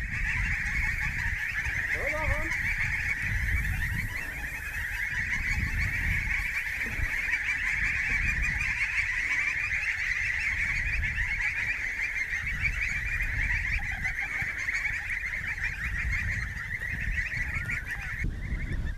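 A flock of geese honks continuously and fairly loud throughout, a dense steady chorus over low rumbling background noise in the Rheintal, with no talk.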